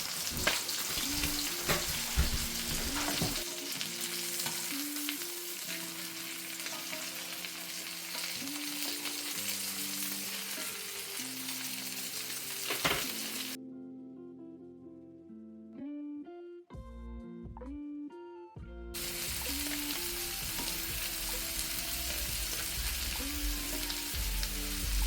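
Mushrooms, garlic and thyme fry in a pan with a steady close sizzle and stirring, overlaid by background music that briefly takes over alone before the frying returns.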